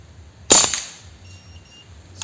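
One crisp, loud report from a PCP (pre-charged pneumatic) air rifle fired nearby, trailing off briefly into quiet background with a faint click afterward.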